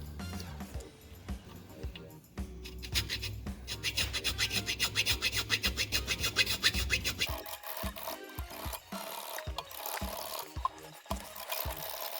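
Rhythmic rasping strokes of a file scraping metal on a tractor sleeve fitting, fast and repeated for several seconds, then slowing into scattered scrapes and knocks, with faint talking.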